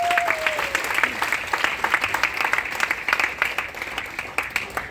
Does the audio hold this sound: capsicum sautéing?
no